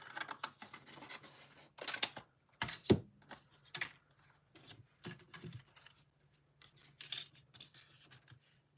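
Scissors cut paper for an embossed card in a series of close, crisp snips and crunches with short pauses between them, quiet and unaccompanied by speech.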